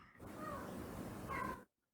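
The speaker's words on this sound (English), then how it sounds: "as my cat tries to fight off a bug" A house cat trying to fight off a bug lets out one drawn-out, raspy yowl over a noisy background. The cry swells slightly near its end and then cuts off abruptly into silence.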